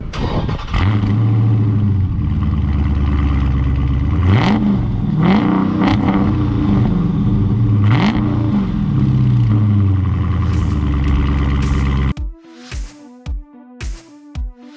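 A Dodge Charger Scat Pack's engine roars loudly and close up, rising and falling through several hard revs and accelerating pulls, before the sound cuts off and gives way to a short rhythmic musical passage.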